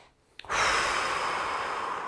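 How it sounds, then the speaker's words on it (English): A person draws a quick, sharp breath, then lets out a long, breathy exhale that carries on steadily; the breathing is close and clear with no talk. "You're just going to take a couple of quick breaths to settle in."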